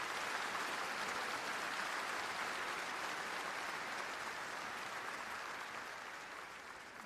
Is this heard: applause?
yes